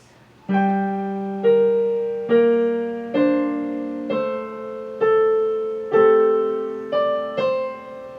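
A piano plays a short passage of sustained chords and notes, each struck clearly and left to ring and decay, close and alone.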